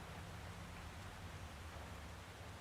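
Steady rain hiss in a video game, a constant wash of falling drops with a low rumble underneath, heard alone with no voices.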